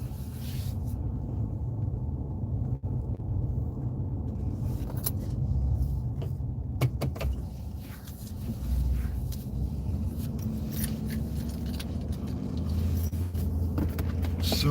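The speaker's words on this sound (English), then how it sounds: "I'm glad I left the truck running, man." A truck engine left idling during a freezing Texas cold snap, a steady low rumble heard from inside the cab throughout, with a few small knocks and clicks.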